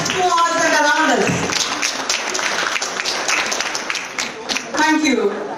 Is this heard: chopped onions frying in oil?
no